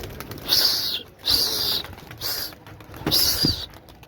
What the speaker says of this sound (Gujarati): ઉડાડી દીધા બધા કબૂતર